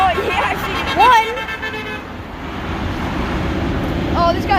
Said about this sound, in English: we're gonna see how many trucks we can get to honk